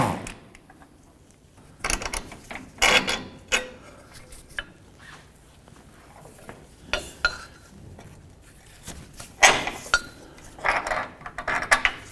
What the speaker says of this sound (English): use an 18mm socket and remove this bolt here and nut, and this bolt and nut as well